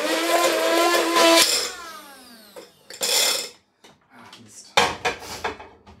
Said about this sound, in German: jetzt kommt der Pürierstab zum Einsatz, um das Ganze mal in so eine feine Konsistenz zu befördern.